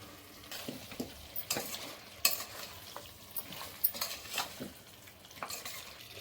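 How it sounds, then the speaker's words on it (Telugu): Taro roots tossed into a pot of mutton curry and stirred, with scraping spoon strokes against the pot over a soft, steady sizzle; no one speaks. "చామగడ్డలు వేసుకుందాం ఇందులోకి."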